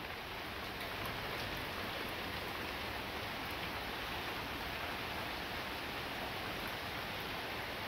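Steady rain falls during a moderate to strong September thunderstorm, a continuous even hiss of drops on surfaces, fairly close, with no thunder or voices.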